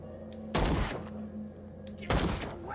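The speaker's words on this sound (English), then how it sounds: "I'm not afraid to shoot." Two loud, close gunshots from the horror video game Call of Cthulhu, each a sharp broadband blast with a short decay, spaced about a second and a half apart over a low ambient hum.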